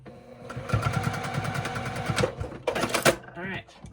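A home sewing machine runs in close, rapid bursts while stitching a small shirt for a needle-felted elf, its fast mechanical chatter stopping and restarting, with a person speaking over it.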